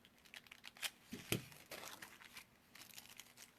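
Scissors snip through paper in a quiet room, with a few faint crisp cuts and light crinkling rustles spread irregularly over a few seconds.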